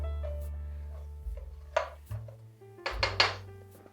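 A plastic fork is fetched in a kitchen, bringing a few light clinks and rattles of utensils and dishes, spaced irregularly and close by, over a low steady hum.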